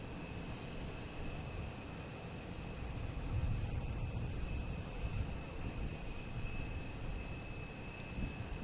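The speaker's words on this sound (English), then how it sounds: "We have a Cape Air coming in from Rockland. A regular Cessna 402." A Cape Air Cessna 402 arriving from Rockland at Boston Logan drones faintly and steadily in the distance, a low continuous engine rumble that swells slightly midway, with no voices present.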